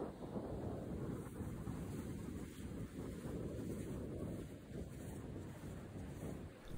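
Waves wash onto an empty beach on a midday coastal outing, a soft continuous surf roar mixed with gusty wind buffeting the microphone, faint and without voices.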